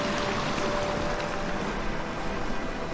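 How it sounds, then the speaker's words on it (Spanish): Steady broadband rush of a creek flowing below a forest trail in Las Jarillas, Córdoba, a continuous watery hiss at even level for the whole stretch with no talk. "Miren el arroyo de abajo"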